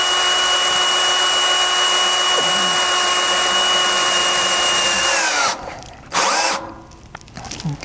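A power drill drives screws under an RV, whining at steady high speed for several seconds before stopping, spinning briefly again, then going quiet amid faint handling noise.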